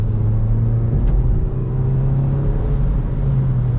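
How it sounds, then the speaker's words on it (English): A Ford Focus SVT engine held at half throttle, a steady close rumbling drone with a low even hum and slight rise in pitch, alone without talk. "that's just giving it a little half throttle"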